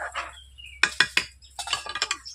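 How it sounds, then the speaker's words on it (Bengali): A spoon knocks and clinks against a pan as papaya is stirred with turmeric powder for a mung dal dish, giving a few quick, close metallic taps in short bursts with no speech. "হলুদ গুঁড়ো দেওয়ার পর এইভাবে নেড়ে নিচ্ছি"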